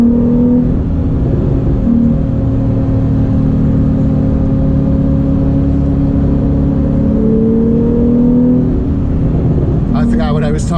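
A Porsche 911 engine drones loudly from the cabin as the car powers out of a corner on a twisting road, steady engine tones rising in pitch, with a brief burst of talk near the end.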